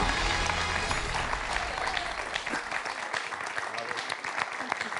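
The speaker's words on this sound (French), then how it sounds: "le public applaudit Véronique" Studio audience at a televised quiz show applauding a contestant, Véronique, with steady full clapping that fades a little midway, a voice briefly heard underneath.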